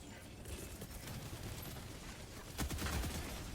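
An artillery barrage in the game Helldivers 2 rumbles on as a continuous, dense roll of distant impacts, building to heavier thuds near the end.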